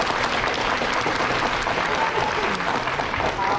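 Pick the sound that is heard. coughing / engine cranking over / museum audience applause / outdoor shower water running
museum audience applause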